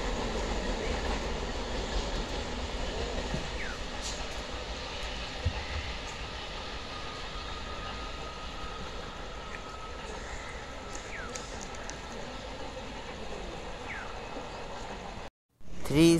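A Howrah–Katwa local train rolls through Chandannagar railway station with a steady rumble and clatter of wheels on track, faint squeals over the rails, heard from the platform until a sudden cutoff near the end.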